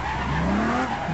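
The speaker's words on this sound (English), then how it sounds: "This car is so hard to drive." Tires squeal in a long, rising skid as a car slides in the driving game APB, loud and up close with an engine drone underneath for just over a second.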